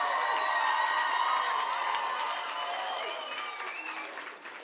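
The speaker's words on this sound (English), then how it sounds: "And we can now all applaud and congratulate the first to 8th grade New Heights class." Audience at a charter school graduation claps steadily, a dense wash of applause with faint cheering that holds strong, then eases slightly toward the end.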